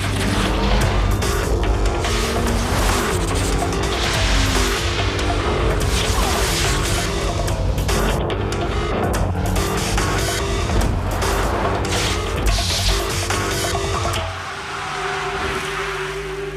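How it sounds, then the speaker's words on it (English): A 300-horsepower Lexus GS sedan accelerates hard in a TV commercial, its engine roaring loudly and continuously with tire squeal and skidding over a busy music-backed mix, then easing off near the end. "The 300 horsepower Lexus GS."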